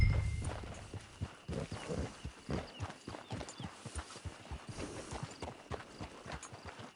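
Horse hooves walk in Red Dead Redemption 2 with a steady clip-clop rhythm. The hoofbeats are moderately close, evenly paced and alone, with no speech.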